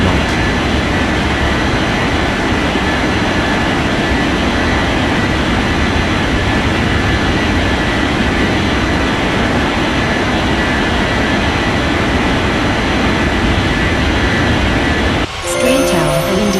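An airliner's jet engines roar steadily at full takeoff power in an air traffic control video game, a loud, sustained rumble that drops away abruptly near the end.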